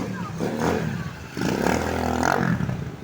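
A motorcycle rides through flood water on a city street, its engine revving at medium pitch amid splashing and clatter, with a bystander talking over it.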